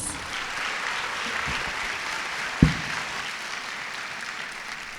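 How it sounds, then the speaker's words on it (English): Audience at a girls' sports celebration event applauds steadily in a broad wash of clapping, with a single sharp knock partway through. "So one last time for Emily, let's get a big round of applause."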